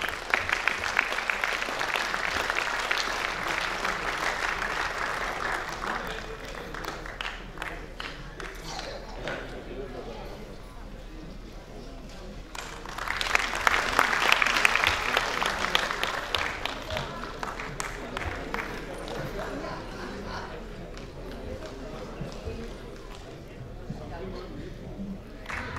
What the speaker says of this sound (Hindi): आप पुरजोर तालियों से इस्तकबाल करें